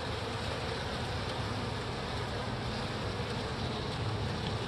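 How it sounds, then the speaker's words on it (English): Dense, steady buzzing of many honey bees at an open hive with bees festooning on the inner cover, a continuous close swarm drone filling the whole stretch with no talk. "And they got enough bees to festoon on the inner cover."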